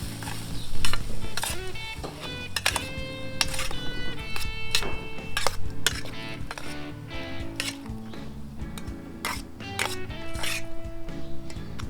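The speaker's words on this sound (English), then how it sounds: "Give that another good stir." Sag aloo of potatoes and spinach, seasoned with plenty of pepper and salt, sizzles in a pan while being stirred, with steady frying crackle, metallic scrapes and clinks of a utensil against the pan throughout.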